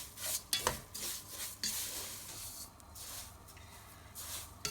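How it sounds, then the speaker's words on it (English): A utensil scrapes around the sides of a pan of frying sev, giving several short scratchy strokes with faint sizzling underneath, close and fairly quiet. "I'm just going to scrape off the sides."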